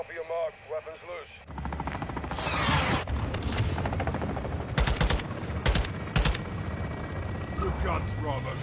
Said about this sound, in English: Copy your mark. Weapons loose.